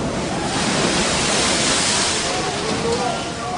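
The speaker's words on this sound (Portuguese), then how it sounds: "E as ondas batiam com força no barco, porque o vento soprava contra ele." Wind-driven waves beat hard against a boat out on a lake, a dense, continuous wash of surf and wind noise that stays loud and steady throughout, heard with no voice over it.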